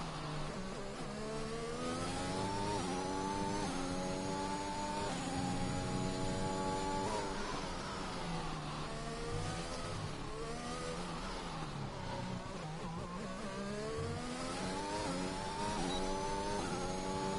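Race car engine revving hard through gears on an onboard flying lap at France in a racing video game, continuous loud whine with rising and falling pitch sweeps as it shifts, no talk.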